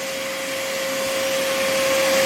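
A vacuum cleaner with a hose runs steadily after sanding body filler on a Mercedes, a loud continuous whine with a fixed tone, close and unbroken, with no talk.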